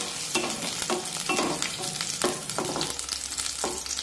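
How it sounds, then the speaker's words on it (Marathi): Green chillies frying in hot oil for a spicy peanut chutney, turned over and over with a spatula: close, rhythmic scraping strokes above a continuous sizzle, with no talking. "एकसारख्या या मिरच्या असं उलटण्याने हलवून घ्यायच्या, म्हणजे त्या सगळीकडून एकसारख्या तेलामध्ये व्यवस्थित भाजल्या जातात"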